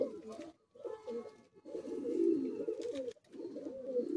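Pigeons coo in low, throaty bursts, several rounds separated by short pauses, close by and moderately loud; no talking is heard.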